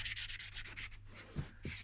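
Rhythmic close back-and-forth rasping of sandpaper smoothing a Nissan Almera N16 wheel trim, in quick even strokes with a low hum underneath.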